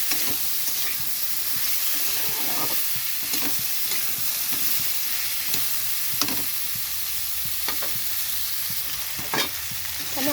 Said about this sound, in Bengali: আলু কচুটা দিয়ে দিলাম ভাজার জন্য,